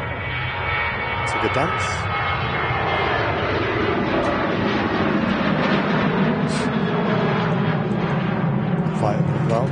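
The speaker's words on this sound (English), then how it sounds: "And the Ryanair on the takeoff roll." A Ryanair jet airliner on its takeoff roll at Manchester Airport gives a loud, continuous engine roar that holds steady throughout, heard from a distance outdoors, with people talking over it.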